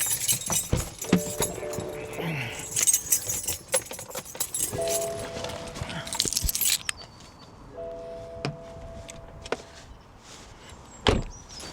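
Metal keys jingle and rattle in several short bursts amid handling clatter and a few knocks, with a faint tonal hum in the background.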